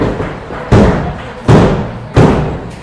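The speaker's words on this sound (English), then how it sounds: "Oh, power slam." Three heavy thuds land in quick succession as a wrestler is slammed onto the mat by a power slam, loud and close, each impact decaying briefly before the next.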